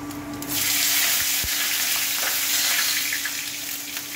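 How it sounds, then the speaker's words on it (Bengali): Whole spices and a bay leaf tempering in hot oil crackle in a bright, continuous sizzle close to the pan, with a brief clink early on and no voices. "ব্যাস ফোড়ন দিয়ে তেজপাতা দিয়ে"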